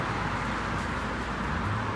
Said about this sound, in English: it's a lot of traffic out here